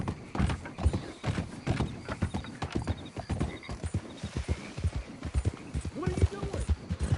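Horse hooves clip-clop at a steady trot in Red Dead Redemption 2, with a whinny near the end, as a rider speaks over the rhythmic footfalls.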